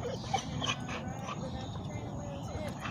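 A dog whimpers and whines in short bursts during weight-pull training, heard close by with a person's voice talking over it.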